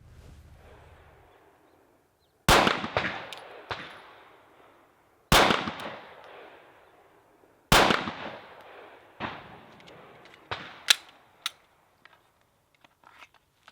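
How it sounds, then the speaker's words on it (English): Several sharp, loud gunshots from a Glock 19 pistol firing Winchester White Box 115 grain 9mm rounds at a range, spaced irregularly with echoing tails, then a few lighter impacts and clicks. "I'll just shoot those to see how those compare out of my Glock 19"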